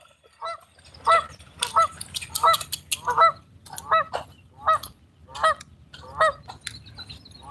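Geese or ducks at a lake honk in a steady series of about ten loud, evenly spaced calls, fairly close, during a morning walk with a husky.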